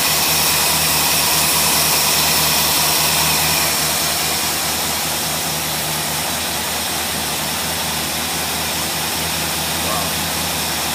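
Engine fitted with a Holley race carburetor idling steadily with a loud, constant drone and rough low rumble that never lets up, close by.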